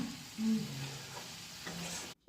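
Refined oil frying in a kadai in a home kitchen, a steady close sizzle with a faint tonal hum, cut off abruptly at the end, no voices.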